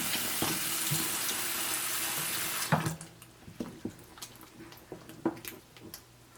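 Cold water pours from a tap into a container while making injera batter, a steady loud stream for a few seconds, then stopping into scattered drips and clinks.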